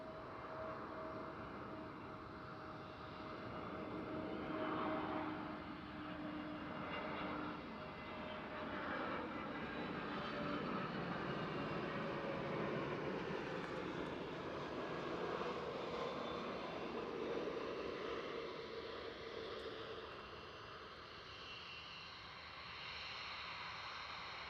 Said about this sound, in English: an EasyJet from Bristol, an A320 200 Neo